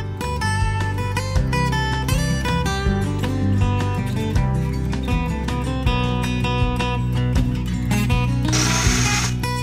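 A mini lathe turns a large 5-inch chuck adapter plate, overhanging well past its intended size, as it slowly cuts aluminum. The motor hums in a steady, loud drone with a harsh scraping burst near the end.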